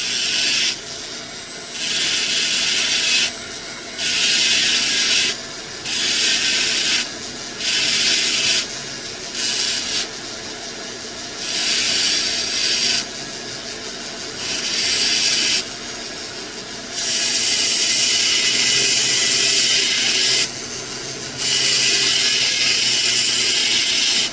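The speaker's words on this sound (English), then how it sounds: "I know this burr is coarse, but I'm defining the very last part, the end of the stone" A coarse burr grinds the end of a fire agate windowed stone in bursts of high, hissing whine, repeated on-off passes of a few seconds each over a steady hum of air purifiers.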